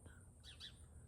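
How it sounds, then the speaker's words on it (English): Brief bird chirps, two short high calls close together, faint over a low steady background rumble. "Yes, I can hear birds chirping again."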